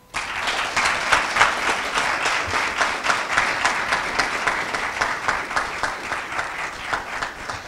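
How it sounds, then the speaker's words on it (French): Sustained applause from a conference audience in Paris welcoming a speaker to the stage, dense steady clapping lasting several seconds, fairly loud and even with no talking over it. "je vais vous demander de l'applaudir"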